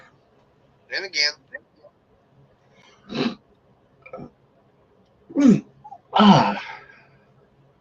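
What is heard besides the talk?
sneeze again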